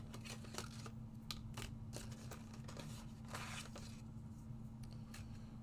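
Craft pieces being cut out with a die, a series of faint, crisp clicks and scraping rustles in an irregular run over a steady low background hum.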